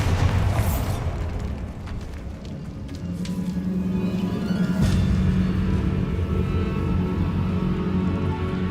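Bombarda blasting spell going off in Hogwarts Legacy, a loud booming explosion with rumbling debris, followed by a second burst around midway, set against continuous game ambience.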